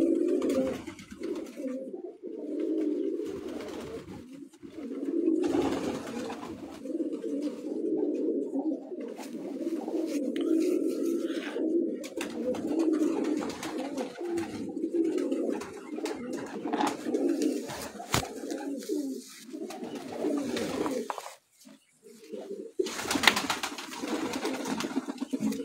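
Many loft pigeons on a rooftop coo together in a steady, overlapping rumble of soft throaty calls nearby, with a few brief clatters and a louder disturbance near the end.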